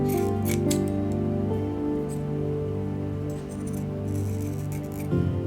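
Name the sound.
scissors cutting felt for a plush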